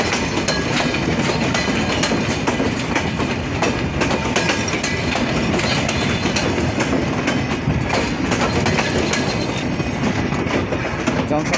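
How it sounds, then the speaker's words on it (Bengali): The Sundarbans Express, a long passenger train, rolls past close by outdoors near a junction, a loud continuous rumble with rhythmic clickety-clack of wheels over rail joints throughout. "লাক্সারিয়াস একটা ট্রেন আমাদের সুন্দরবন এক্সপ্রেস"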